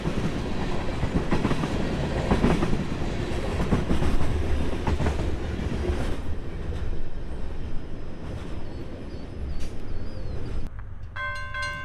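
A freight train hauled by KCS-painted locomotives rolls past on the CSX CC Subdivision, a steady loud rumble with rhythmic clickety-clack of railcars, fading slightly near the end as a faint bell-like tone appears.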